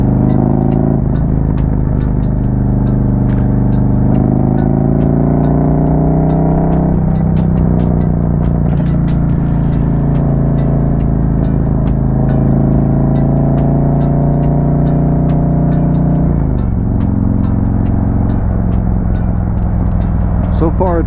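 A Harley-Davidson motorcycle engine with a newly installed HPI throttle body and intake manifold runs at low RPM on a test ride. Its deep, loud throbbing drone rises and falls with several throttle and gear changes.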